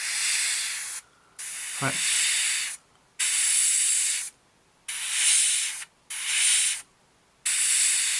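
Light coats of paint are sprayed onto a 1/48 Tamiya Spitfire Mk.1 scale model, heard as close, steady hissing bursts of one to two seconds each, separated by short silent gaps, with a brief spoken word early on.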